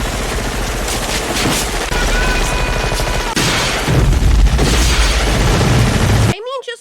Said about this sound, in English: they all start shooting alongside him